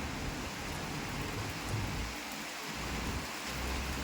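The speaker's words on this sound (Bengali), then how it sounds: "এখন এই ঝরঝর করে বৃষ্টি পড়ছে" Heavy rain pours steadily onto a rooftop terrace, a dense, continuous hiss with no breaks and no voices.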